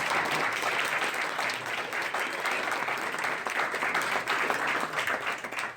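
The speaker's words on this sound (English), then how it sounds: "please give me a round of applause for the Schenectady Foundation" Audience applause for the Schenectady Foundation, a steady, dense wash of many hands clapping that holds evenly loud throughout without a break.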